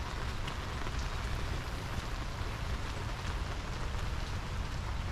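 Heavy flooding rain pours onto a vegetable garden in Georgia, a dense, unbroken roar of drops spattering leaves and soaked ground with no voices.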